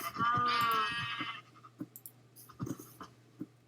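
One wavering Minecraft sheep bleat sounds near the start, followed by sparse soft clicks over a low hum.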